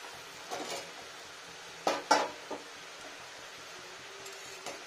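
A lid comes off a cooking pot of cabbage with a couple of quick, ringing metallic clanks, followed by a soft clink, against a quiet kitchen background.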